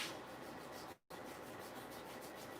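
Steady, close scratchy rubbing of sandpaper on a wooden tool handle oiled with mineral oil, soft and continuous, broken once by a brief pause before it resumes.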